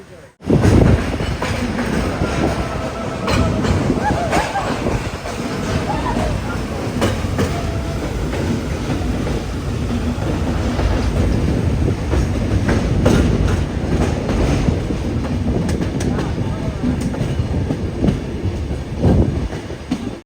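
A Bengaluru to Mangaluru weekly express rumbles along in a general-class coach, loud continuous wheel noise with clickety-clack rhythm and a faint squeal, steady throughout.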